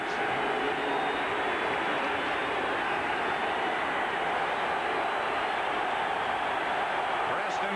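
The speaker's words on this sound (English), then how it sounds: "Listen to this chant from this crowd for defense." A 1980 football crowd in Philadelphia roars in a steady, dense wash through the stands, a sustained chant for the Eagles defense carried under the broadcast with no break.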